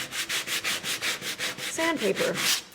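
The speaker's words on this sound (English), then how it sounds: "It's always about the sandpaper, okay? And it's not a disc, it's a block." A sandpaper block rubs back and forth over a painted background surface in steady, rhythmic strokes, about a dozen in under three seconds. The sanding is close and loud, with a brief squeak partway through and no talk.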